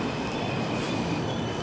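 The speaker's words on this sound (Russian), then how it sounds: "Так, трамвай куда-то поехал." A tram pulls away in Freiburg city centre, its steady rolling rumble and rail noise filling the street with a faint high wheel whine on top, continuous and fairly close.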